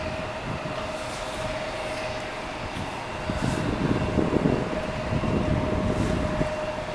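A United Airlines airliner passes by as a steady, loud roar of engine rumble with a sustained tone, swelling slightly in the second half and continuing throughout.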